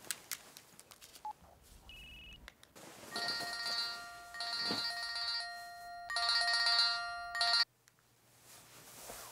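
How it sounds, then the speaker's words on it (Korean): A telephone places an outgoing call in a Korean drama scene: a few short dialing beeps, then repeated electronic ringing tones in loud bursts that stop abruptly, with no one talking. "은주 오빠한테 전화해서 우리 결혼식 얘기해줘야지"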